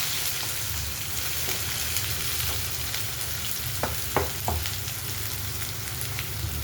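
Onions and curry leaves fry in hot oil for a Marathi moong dal dish, a close, steady sizzle with a few sharp pops and the occasional scrape of stirring.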